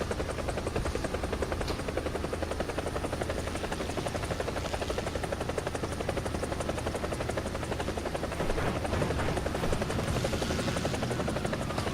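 A helicopter flying in a combat video game, with continuous rapid rotor chopping over a steady engine whine, loud and sustained throughout, with no voices.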